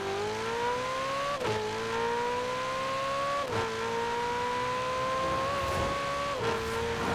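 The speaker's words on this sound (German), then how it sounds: "Boah, der Schaltsound, Alter. Das hört sich mal nach dem richtigen Schaltvorgang an." Car engine in Forza Horizon 4 revving steadily up through the gears, with sharp pitch drops at each of three gear shifts and a continuous, loud drone throughout.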